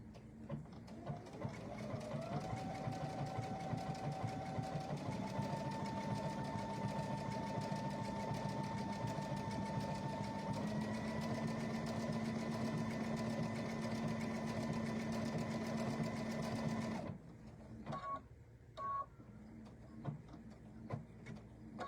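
A sewing machine runs slowly and steadily for about seventeen seconds, its motor hum shifting pitch slightly, then stops, leaving a few soft handling clicks.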